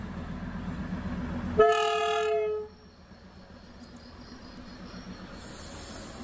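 A train pulling into a rural station sounds a loud horn blast of about one second over a low running rumble, after which the rumble fades to a quieter hum.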